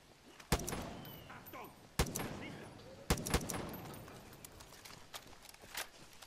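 Several sharp, punchy video game gunshots in Far Cry 5 ring out at irregular intervals, each followed by a short decaying echo over quiet background noise.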